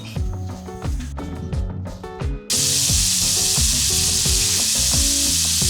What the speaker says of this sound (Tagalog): magsugod na ko pirito sa squids. Deep fry lang nato.